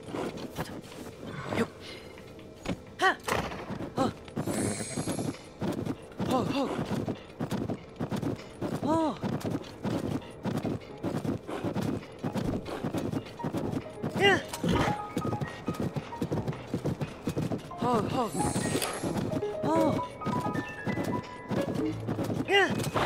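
Rhythmic hoofbeats of a golden horse galloping in Zelda: Tears of the Kingdom, a steady clip-clop pattern running through the game audio while a person talks over it.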